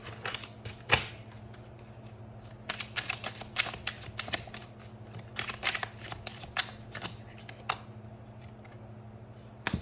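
Tarot cards being shuffled by hand, with rapid clustered riffling and flicking bursts repeating over about ten seconds against a low steady hum, close to the microphone and without talk.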